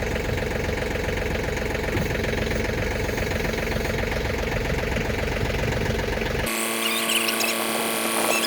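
A Case 580K backhoe's diesel engine idles with a steady, rhythmic chug, loud and close, then cuts abruptly to a different steady mechanical drone.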